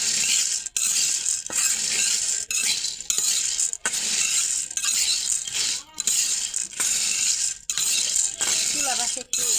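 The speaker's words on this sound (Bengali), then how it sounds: "বুন্দিয়াটা হালকা করে একটু ভেজে নেব, তেল লাগবে না কারণ এটা তেল দিয়েই ভাজা" Boondi dry-fried in a karai without oil, stirred briskly so the small fried balls rattle and scrape against the metal in a busy, uneven clatter with light sizzling, heard up close.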